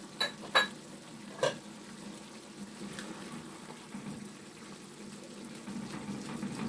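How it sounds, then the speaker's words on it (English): Ghanaian beef okro stew is stirred in a pot, beginning with a few sharp utensil knocks against the pot, then a soft wet stirring and bubbling texture, fairly quiet. "We're going to stir it again."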